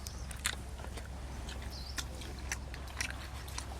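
Someone chews fried hilsa fish up close, soft wet bites and smacking at an irregular pace over a quiet background.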